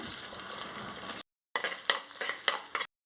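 Soaked fenugreek seeds and tempering spices frying in hot oil in a pan, giving a bright, close sizzle with spoon clinks and stirring scrapes, broken by a brief silent cut.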